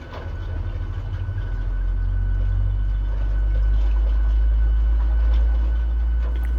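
A simulated PMDG airliner engine starts up in Microsoft Flight Simulator, a low rumbling drone that builds over the first seconds and then holds steady and heavy, with no voices.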